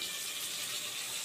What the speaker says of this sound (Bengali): জল দিলাম